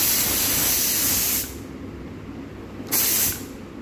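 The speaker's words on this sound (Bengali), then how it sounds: "এই দেখুন, কুকার আমাদের সিটি দেওয়া স্টার্ট করেছে।" A kitchen pressure cooker whistles as steam escapes: a loud, close hissing blast fades to a lower hiss, then a second, shorter burst of hiss.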